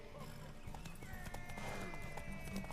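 Horse hooves clip-clop in an irregular trotting rhythm in the video game The Witcher 3: Wild Hunt, moderately close, mixed with faint background music and a voice speaking over it.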